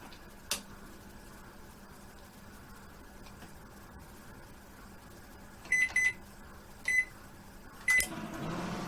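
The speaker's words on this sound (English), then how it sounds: "I'll just turn on the microwave and just notice the fan when that rotates" A microwave oven hums steadily with a low drone, a click near the start, then several short electronic beeps toward the end.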